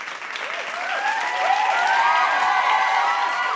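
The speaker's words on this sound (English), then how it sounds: "I'm going to insert a round of applause after that spill." A round of applause added into a podcast conversation, dense clapping with a few cheers and whistles from a crowd, rising slightly and holding steady throughout, loud and alone without talk.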